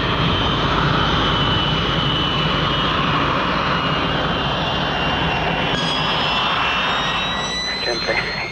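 A light aircraft engine drones loudly and steadily in the cockpit as the throttle is increased, with the pitch climbing slightly toward the end.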